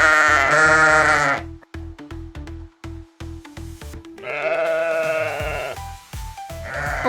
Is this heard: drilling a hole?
no